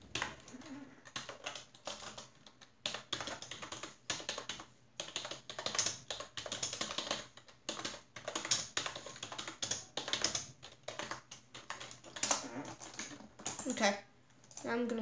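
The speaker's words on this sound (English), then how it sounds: "I need to type something" Rapid clattering keystrokes on a computer keyboard during a Minecraft gaming session, fast irregular bursts of taps close by, with a voice speaking at moments over the typing.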